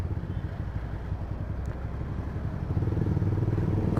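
A Yamaha MX King 150 fitted with a custom aftermarket exhaust idles nearby with a steady, throbbing low rumble that swells slightly toward the end.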